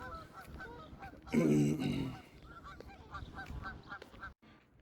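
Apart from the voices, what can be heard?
geese honking by a road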